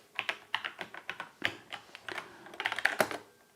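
Code being typed on a computer keyboard in the Eclipse editor, a close, steady run of crisp key clicks at an uneven quick pace, with no talk.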